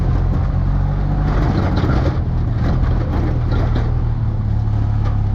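Fiat 126p cabrio engine running loud and close at steady high revs, a continuous rough buzzing drone with no clear rise or fall, and no talking.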